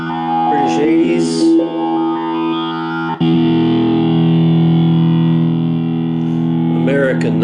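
A heavily distorted electric guitar rings out through a Fender Mustang I V.2 amp on its British 80s model, sustained crunchy chords with a brief break midway, loud and close.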